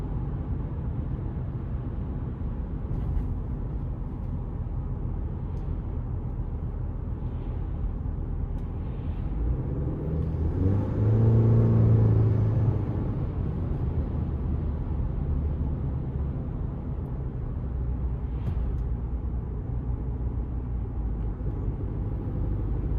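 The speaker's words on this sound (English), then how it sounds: "But I love the whistle of the turbo." A 2026 Chevrolet Colorado TrailBoss pickup's turbocharged engine rumbles steadily while driving, and midway a rising turbo whistle swells over the drone before easing back into the road noise.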